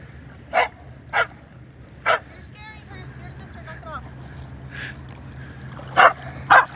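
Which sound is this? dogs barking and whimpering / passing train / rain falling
dogs barking and whimpering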